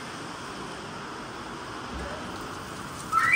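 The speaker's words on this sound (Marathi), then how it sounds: "कसा पाऊस आहे बघा" Rain pouring down over open farmland in the countryside, a steady dense wash of noise at moderate level that thickens slightly near the end, with no voices present.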